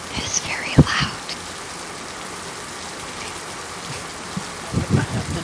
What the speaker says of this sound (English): You feel the rain pick up even more than what it was previously.